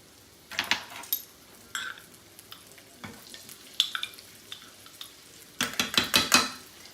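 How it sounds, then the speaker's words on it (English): Onion and garlic sauté in butter in a skillet: a soft sizzle under intermittent scraping and clinking of a utensil against the pan, with bursts of stirring near the end. "And I'm going to saute that in the butter along with some garlic, about 2 cloves."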